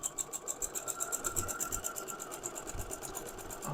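A sewing machine runs steadily through quilt block seams, its needle clattering in a fast even rhythm up close with a faint whine, alone without speech.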